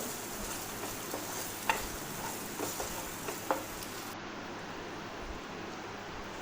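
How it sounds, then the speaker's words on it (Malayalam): Chopped onion and salt sizzling steadily in a pan, a low continuous fry with a few faint clicks of stirring scattered through. "ഒരു ചെറിയ സവോള ചെറുതായിട്ട് അരിഞ്ഞ് അതും കൂടി ഇട്ട് കൊടുത്തു"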